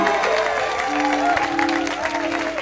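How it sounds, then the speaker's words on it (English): Audience applause for a storyteller at a Moth GrandSLAM championship, a steady wash of clapping with a few shouts and a sustained tone running under it. "Big round of applause for Keylee Koop."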